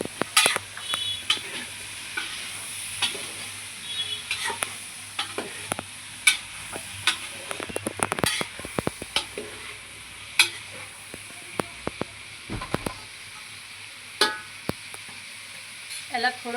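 Chopped vegetables frying in a pan for pulao, a soft continuous sizzle broken by repeated spatula scrapes and clinks against the pan as they are stirred, close by, with no talk.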